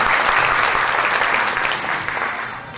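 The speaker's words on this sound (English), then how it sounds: "Yes, please give Chris a round of applause." An audience at a beauty pageant applauds steadily, a dense wash of clapping that stays loud and even for a few seconds before easing slightly toward the end.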